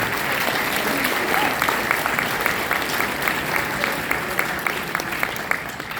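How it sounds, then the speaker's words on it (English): A concert audience at a school symphony and philharmonic orchestra performance applauds, with many hands clapping in an even, sustained wash and individual sharper claps standing out near the front. "audience, give yourselves a round of applause."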